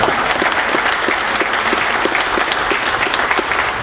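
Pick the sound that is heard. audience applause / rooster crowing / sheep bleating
audience applause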